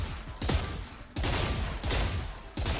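Gunshots fired in Valorant, sharp sudden cracks in a spaced tapping rhythm, four distinct shots each followed by a short decaying tail, fairly quiet and with no voices.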